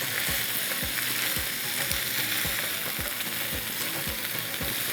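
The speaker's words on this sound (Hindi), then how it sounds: "हल्का सा हम इसे फ्राई करेंगे" Mixed vegetables such as potato and cauliflower fry in a pan, giving a steady loud sizzle with a regular series of stirring scrapes and knocks throughout.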